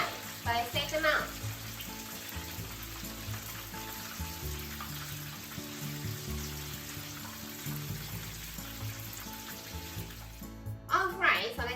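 Pork tenderloin cutlets deep frying in hot oil give a continuous crackling sizzle with low bubbling, and someone talks over it at the start and near the end.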